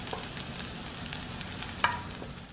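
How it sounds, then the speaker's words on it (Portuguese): Kale being sautéed in a pan, a continuous soft sizzle close by with light stirring scrapes and one sharper utensil knock near the end, no talking. "eu vou refogar o couve para acrescentar no arroz"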